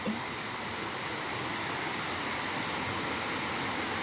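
Ton Nga Chang waterfall in Songkhla sends up a steady, unbroken rush of falling water, a dense even roar that holds at the same level throughout with no voices over it.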